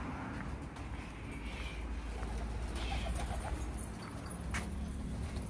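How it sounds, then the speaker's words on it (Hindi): White bar Gole breed pigeons cooing in a loft in Rohtak, a steady low murmur of soft coos layered over constant background noise, close and continuous throughout. "ये सब वाइट बार के कबूतर हैं"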